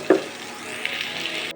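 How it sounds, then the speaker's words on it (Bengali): Bottle gourd pieces frying in hot oil in a wok, with a sharp clatter as they are stirred, then an even, steady sizzle until it cuts off abruptly. "তারপর লাউটাকে ভালো করে ভেজে নিতে হবে কড়াই"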